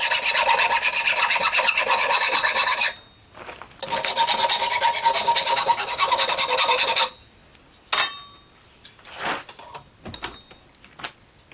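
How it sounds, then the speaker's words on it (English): A metal fishing spear gig being ground smooth: loud, close rasping strokes in two long bursts, then a pause and shorter scraping and clinking sounds, with no talking. "basically this allows me to grind it smooth."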